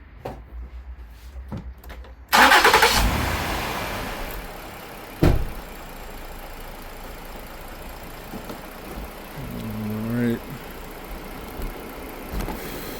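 A Ford/Lincoln MKX engine cranks and catches with a loud burst, then settles into a steady idle, with a few clunks and a brief whirring rise partway through; a faint compressor-like hiss lingers in the background before the start.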